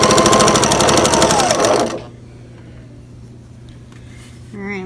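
A sewing machine runs fast for about two seconds, stitching a quilt block seam with a dense, rapid mechanical chatter that stops abruptly, leaving quiet room tone before a voice begins speaking near the end.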